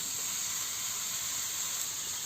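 Bottle gourd dropped into a hot wok over a lit clay stove gives a steady, even sizzling hiss that holds unbroken throughout, with no voices.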